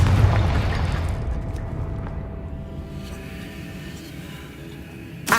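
The Confringo fire spell explodes in Hogwarts Legacy inside a tomb, a loud deep boom at the start that rumbles and fades over several seconds, ending with a sharp crack.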